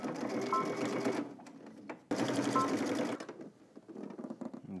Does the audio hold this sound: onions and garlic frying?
no